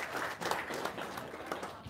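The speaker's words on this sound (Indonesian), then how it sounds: "Sip, tepuk tangan dong." An audience claps steadily at a religious gathering, the applause moderately loud and continuous for about two seconds, with no talk over it.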